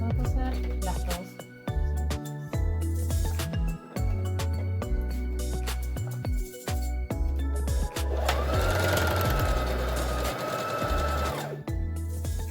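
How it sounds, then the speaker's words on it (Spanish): A sewing machine stitches bralette cups together, its needle running in fast, even bursts with brief pauses between runs and a longer high-pitched whirring stretch near the end. "Y vamos a coser las dos."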